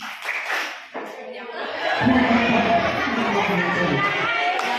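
Children at a TPA/TPQ Halal Bi Halal gathering break into a rhythmic wudu clapping chant, the group's claps and voices swelling in after a brief spoken lead-in and carrying on loud and lively.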